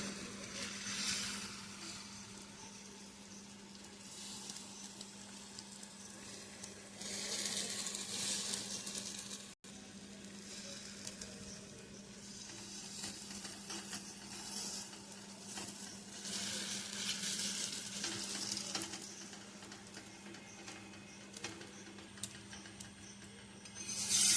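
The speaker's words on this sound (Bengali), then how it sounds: "এবারে দেব ময়দা গোলা, খুন্তি দিয়ে মেলে দেবো চারিদিকটা।" Thin flour batter frying in a pan, a steady sizzle and hiss with soft scraping as a spatula spreads it around, close and fairly quiet throughout.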